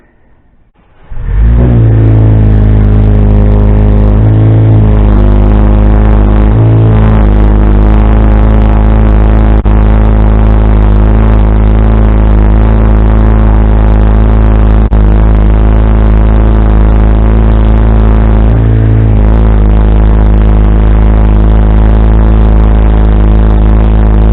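An unmuffled Jeep engine roars to life and idles loud and raw, with a few sharp revs blipping through the rumble, close by and alone.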